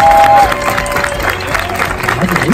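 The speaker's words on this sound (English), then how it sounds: "Give him a big round of applause." An audience at a music event applauds a third-place winner, a loud steady wash of clapping and crowd noise filling the whole moment.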